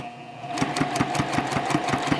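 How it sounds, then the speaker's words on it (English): A domestic sewing machine stitching around a zipper pouch runs with a fast, even mechanical chatter of needle strokes over a motor hum, close and steady. "I've switched back to the regular press-a-foot on my sewing machine, and I'm going to stitch around the box."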